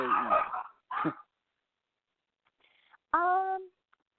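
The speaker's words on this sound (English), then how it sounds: "excuse my dogs, they're very loud right now." A few sharp dog barks and yips close by, separated by silence, ending in a higher whining bark.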